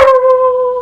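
A dog lets out a sustained, tonal howl-like bark nearby, loud and alone, heard during a live baseball play-by-play broadcast.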